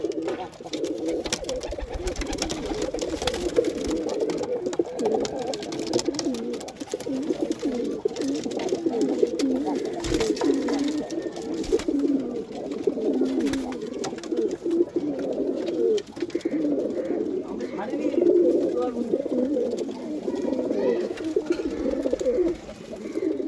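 Many pigeons coo continuously in a low, rolling chorus, close and steady, with occasional clicks and rustles throughout.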